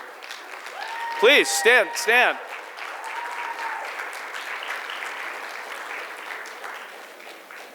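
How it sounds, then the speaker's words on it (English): Summit audience applauds people running for office, a steady wash of clapping that swells after a brief spoken request at the start and carries on evenly to the end. "These are the people I really want to applaud today."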